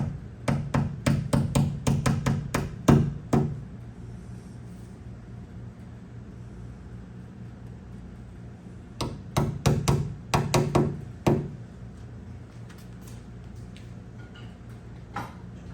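Hammer taps on a 1964–65 Mercury Comet door handle, a quick run of sharp metallic knocks for several seconds, a pause, then another close burst of taps.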